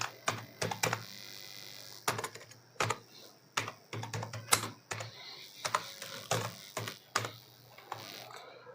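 Fingers tap a computer keyboard while entering details into an online registration form, quiet irregular clusters of close keystrokes with brief gaps between them and no talking.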